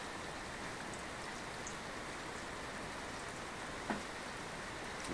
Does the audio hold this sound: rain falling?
yes